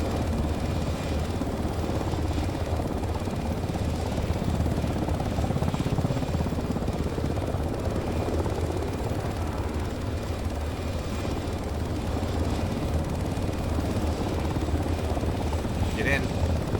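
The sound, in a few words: helicopter running on the deck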